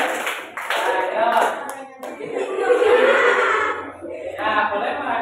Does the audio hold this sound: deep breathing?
no